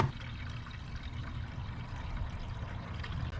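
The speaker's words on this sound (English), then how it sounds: "I'm gonna add coolant and I'm gonna pressurize it to make sure I have no leaks" Coolant poured into the radiator of a 2004 Mazda RX8 makes a steady, soft liquid gurgle and trickle, faint and continuous without pause.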